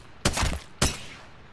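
Two sharp gunshots fired at an enemy in Apex Legends, each a hard crack with a short tail, spaced about half a second apart, fairly loud and close with no talk.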